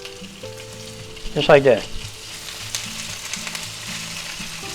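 Smoked ham sizzles steadily in an oiled pan, a constant close frying crackle, while a brief spoken phrase rises over it near the start.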